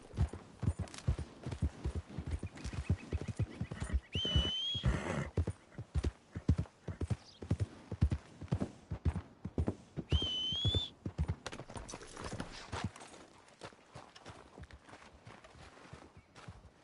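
Horse hooves clop in a steady rapid rhythm in Red Dead Redemption 2, continuous gallop-like beats with a couple of brief whinny-like cries mixed in, moderately loud and alone.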